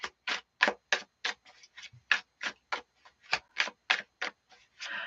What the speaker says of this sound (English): I don't know why I'm shuffling cards